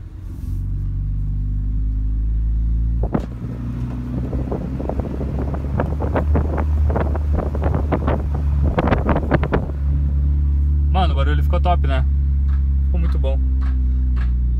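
A Honda Civic with its exhaust tip and muffler removed idles with a steady low rumble, breaking into a rapid burst of sharp exhaust pops and crackles midway, followed by a few scattered pops, all close to the microphone.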